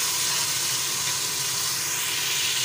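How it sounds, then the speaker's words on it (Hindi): Ginger garlic paste frying in a pot, a steady broadband sizzle and hiss that holds evenly throughout without interruption. "ये अदरक लहसुन का पेस्ट है, ये हमने 2 चम्मच डालने हैं, अब ये शामिल कर देते हैं। इसको हमने 2 मिनट भूनना है"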